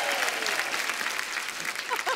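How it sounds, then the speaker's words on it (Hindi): A studio audience at a comedy talk show claps for the cameraman, a steady burst of applause with voices mixed in throughout. "हमारे कैमरामैन उनके लिए ताली"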